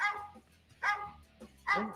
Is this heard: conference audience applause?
no